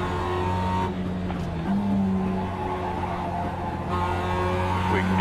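In the iRacing video game, a race car engine drones loudly and continuously, its pitch shifting as it downshifts to third gear, with a faint tire squeal mixed in.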